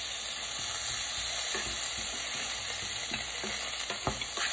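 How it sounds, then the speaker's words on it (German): Mushrooms, peanuts and other nuts being stirred in a frying pan, with a steady sizzle and scattered scraping clicks of the utensil against the pan, close up and with no talk. "Immer schön umschwenken, umrühren, wie man das so nennt"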